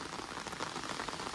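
Heavy monsoon rain pours down by a flooding river, a steady, dense hiss of drops with no break.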